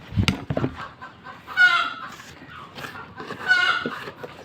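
Chickens clucking while pecking at freshly dug worms, several close, loud clucks and short squawks in two bursts, with scratching and rustling between them and no talk.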